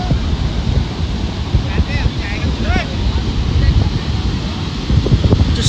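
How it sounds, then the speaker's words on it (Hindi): Wind sweeping across Baga Beach in Goa, buffeting the microphone with a continuous rumbling roar that rises in gusts, while indistinct voices murmur faintly in the background. "अच्छा वेदर है, हवा चल रही है"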